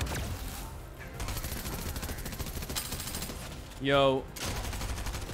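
Machine pistol gunfire in a video game, rapid bursts of shots over constant game noise, with a voice briefly speaking and a loud tonal sound rising near the end.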